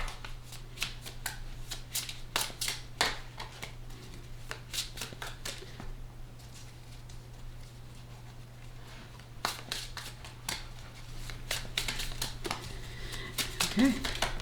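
Tarot cards are shuffled and dealt up close, a run of crisp riffling flicks and snaps with a quieter stretch midway, over a steady low hum while a person talks.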